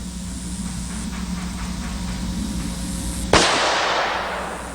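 A single loud, sharp gunshot cracks out at an outdoor shooting range, close by and followed by a decaying echo, after a few seconds of quiet ambient hum.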